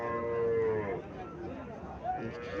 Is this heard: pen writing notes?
no